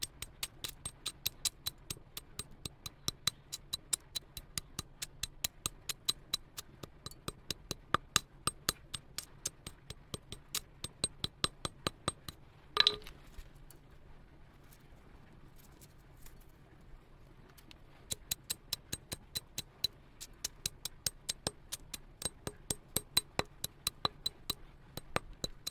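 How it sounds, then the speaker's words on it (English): Slag being broken off freshly smelted and quenched precious metal, heard as rapid, crisp metallic and glassy taps and chips in quick succession, fairly quiet and close, with a lull partway through before the chipping resumes. "Breaking off the slag."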